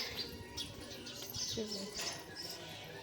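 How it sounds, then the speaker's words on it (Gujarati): Pigeons and sparrows sound faintly nearby, with a low cooing phrase midway and scattered high chirps, set against a quiet outdoor background with no talking. "ચકલીઓ કબૂતર ને અતારમાં તો કેટલા બધું આવી જાય"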